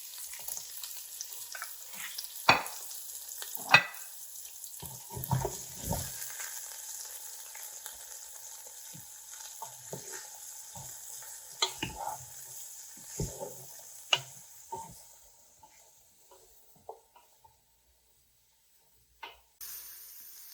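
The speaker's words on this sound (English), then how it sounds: "We'll add the onion, the carrots, and the cauliflower. I'm going to put the rest of my vegetables in, and we're going to cook them for about 5 minutes on medium-high heat." Onion, carrots and cauliflower sauteing on medium-high heat for a curry cauliflower soup, a soft, steady sizzle punctuated by occasional spoon stirs and pan knocks, fading toward near silence at the end.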